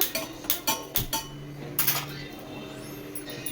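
Metal pots clank and clink on a kitchen counter while jaggery dissolves in water for poppy seed payasam. A quick run of close knocks comes first, then a pause, then a couple more clatters before it quiets.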